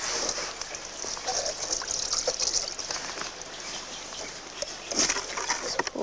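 Water poured by hand into a stream-sampling container outdoors, a steady splashing gush with birds calling in the background.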